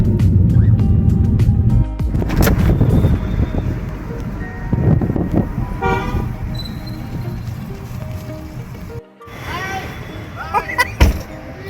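Interior of a car on a friends' road trip to Athirappilly Waterfalls, with steady engine and road rumble plus wind noise throughout, and scattered voices and small clicks over the drive.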